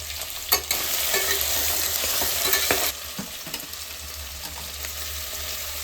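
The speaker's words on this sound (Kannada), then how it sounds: "ಹಾಕ್ತಾಯಿದ್ದೀನಿ ತರಕಾರಿ ಸ್ವಲ್ಪ ಬೇಯೋಕ್ಕೆ." Mixed vegetables frying in a pan for pulao give a steady, loud, close sizzle, with a few sharper stirring clatters near the start and a slight drop in level partway through.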